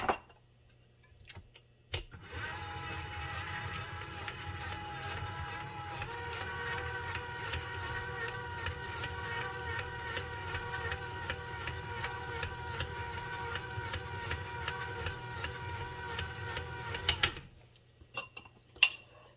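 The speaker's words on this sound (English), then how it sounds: "I'm going to add one at a time. And I'm going to beat just a touch after each one." A mixer beating eggs one at a time into carrot pineapple cake batter, a steady close whirring and rapid ticking clatter that runs continuously for about fifteen seconds before stopping.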